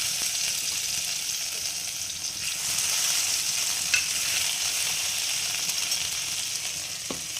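A ground curry-leaf and coriander paste hits hot oil with a mustard-seed tempering, giving a loud, steady sizzle and hiss with faint occasional scraping of a spoon.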